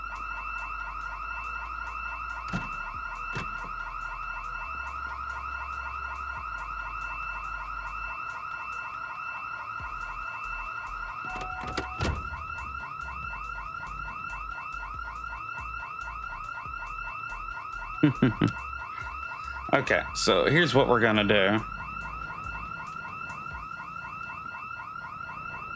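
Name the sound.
car alarm going off in the video game Project Zomboid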